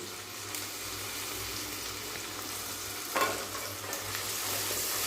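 Onion paste sizzles and is stirred in a pan with garlic, ginger and green chilli paste, a steady close frying hiss with a brief louder scrape of stirring partway through.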